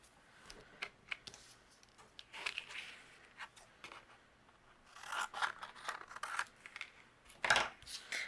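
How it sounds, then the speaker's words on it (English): Paper is trimmed for a card background with a paper trimmer or scissors, a series of quiet scraping, slicing strokes and small clicks in bursts, close and faint with no talk. "I'm going to trim my paper down."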